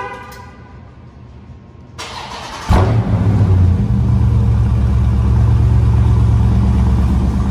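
A 2020 Dodge Charger Scat Pack engine cold-starts, a quiet lead-in giving way to a sudden loud crank and catch, then a deep, steady idle rumble held close to the microphone.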